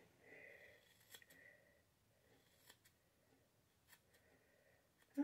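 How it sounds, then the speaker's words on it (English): Cheap scissors snip through curly hair during an at-home haircut, giving a few faint, sparse, close metallic snips separated by quiet gaps, with a soft voice at the start and a louder bump at the end. "So I'm gonna snip more off with my cheapo scissors that I could find."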